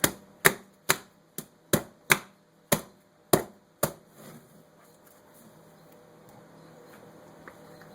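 A mold of rebatched old soap being tapped down on a hard surface: eight sharp, close knocks in an uneven rhythm over about four seconds, followed by quiet.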